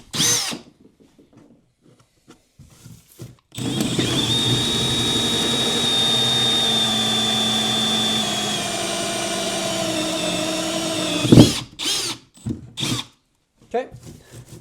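Power drill boring center holes for a bow-mount trolling motor on a Native Watercraft Slayer Max 12.5 kayak: a steady whining run of about seven seconds that ends in a thump, with brief talk before and after.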